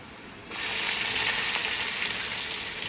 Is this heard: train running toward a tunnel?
no